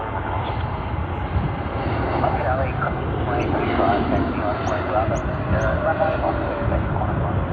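A United airliner starts its takeoff roll at Sydney Airport, with a sustained engine rumble and roar that stays strong and steady and builds slightly midway, with no voices over it.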